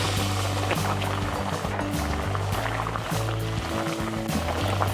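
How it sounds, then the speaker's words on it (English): Vegetable stock poured into a hot pan for mushroom soup, a steady, loud hiss of liquid sizzling and bubbling that continues throughout without pause, with no talking. "So now in with the vegetable stock."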